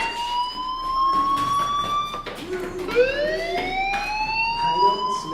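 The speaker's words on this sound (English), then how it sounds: "do you hear that fire alarm?" A fire alarm in the video game Life is Strange wails as a rising siren tone that sweeps up, restarts and climbs again, with indistinct voices murmuring beneath it.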